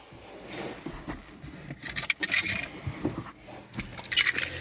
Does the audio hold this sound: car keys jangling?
yes